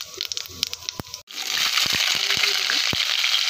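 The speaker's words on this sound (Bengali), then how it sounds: "এখন আমি ওই তেলেই জিরে ফোড়ন দিব" Cumin seeds crackle and sizzle in hot oil left over from frying bottle gourd koftas, a dense, steady hiss rising abruptly after a few sharp kitchen clatters at the start.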